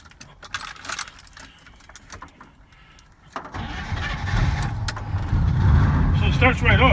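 A throttle body fuel injected engine cranks and starts up after some faint handling noise and key jangles, then settles into a steady, close running idle.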